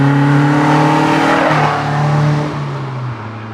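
A Caterham sports car engine roaring loudly close by, holding a strong steady tone before dropping in pitch as it eases off, with no talk over it.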